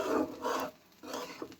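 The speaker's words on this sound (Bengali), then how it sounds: "এই যে প্রায় আমার ভাজা শেষের পথে" Fish roe frying in a pan, heard as soft sizzling with bursts of stirring and scraping in a few short rounds, close and fairly quiet.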